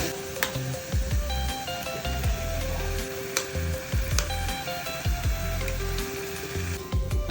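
Beaten egg poured into a bubbling masala gravy in a pan for a simple egg rice, a soft continuous sizzle under repeated scraping and clinking of a spoon against the vessel, no talking.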